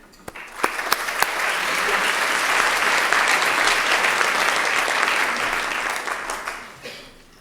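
A conference audience applauds to welcome a moderator onto the stage at a morning session, steady clapping swelling after a few sharp early claps, holding for several seconds, then tapering off.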